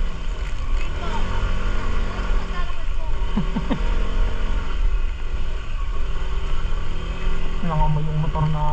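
A small boat's motor runs steadily on Agos river in Infanta, Quezon, a continuous low drone with brief tonal whines, voices talking over it.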